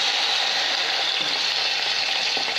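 Duck searing in very hot oil in a pot, a loud, steady sizzle and crackle of frying that holds evenly from start to finish with no voices over it.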